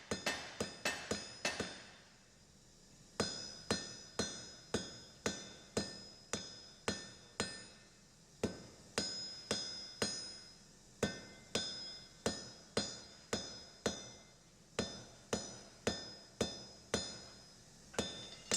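A hammer strikes steel in light, evenly spaced taps while shaping a rounded taper at a blacksmith's anvil. The ringing metallic hits come close and clear, with a short pause early on.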